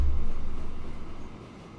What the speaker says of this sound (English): And putting a train on with more carriages.